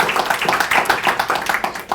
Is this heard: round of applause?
yes